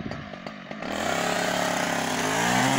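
A chainsaw revving up while cutting willow trees outdoors, a loud steady engine drone that starts after a brief idle and holds up close with rising pitch.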